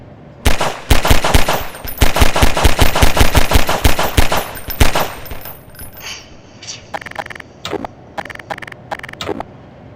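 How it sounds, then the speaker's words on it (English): Rapid gunfire in a video game, a long loud burst of evenly spaced shots for several seconds followed by sparser, quieter scattered shots, with no talk. "just go grab him and go fire 2 shots at him"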